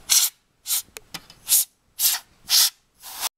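Short hissing aerosol bursts spray into an opened PS3 disc drive, about six close, loud puffs in an uneven rhythm with brief pauses between them.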